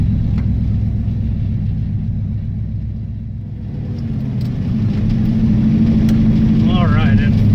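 A V8 engine fitted with a lawn mower carburetor drives a car off from a stop, its low steady rumble and mild revving continuous throughout, close by, with a brief high chirp near the end.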